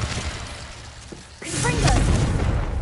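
A Confringo fire spell blast from Hogwarts Legacy on PS5 bursts in loud and booming partway through, with a fiery roaring tail that follows it. Game sounds and voices mix in around it.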